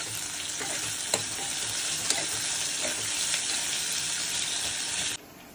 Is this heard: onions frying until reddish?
yes